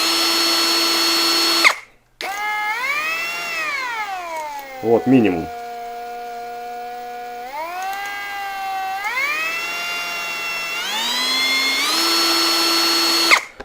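A KAMOLEE cordless drill-screwdriver built for an ice auger whines steadily at low speed, its motor pitch sliding up and down through several changes after a brief stop; someone speaks briefly over it.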